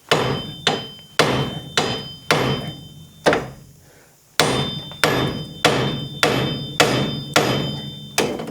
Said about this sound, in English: So I'm going to give that a tap with a hammer, and we'll get that off too.